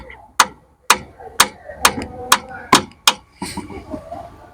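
Seven sharp, evenly spaced metallic taps land on a part of a Jaguar inlet manifold during a flap motor repair. They are close and crisp, followed by a softer fumbling clatter.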